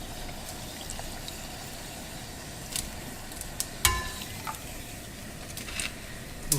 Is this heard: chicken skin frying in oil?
yes